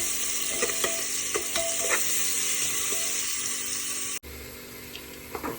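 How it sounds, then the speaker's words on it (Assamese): Ingredients for pulao frying in a pot, stirred with repeated scraping strokes over a steady loud sizzle, then a sudden drop and a brief quieter stretch before the frying noise resumes. "এতিয়া সেইখিনি অলপ লৰাই দিছোঁ।"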